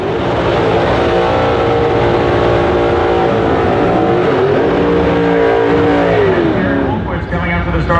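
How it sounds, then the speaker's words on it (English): Dodge Dart drag race car at a Dodge Hemi shootout event idles and rolls loudly toward the starting line, a rough, steady engine rumble with a rising and falling rev near the end. "Coming out to the starting line in his Dart"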